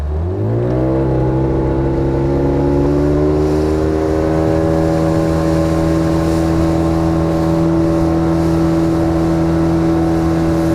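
A Yamaha 15 outboard motor pushes a fishing boat, its loud steady engine drone rising in pitch over the first second or two and then holding an even, sustained whine throughout.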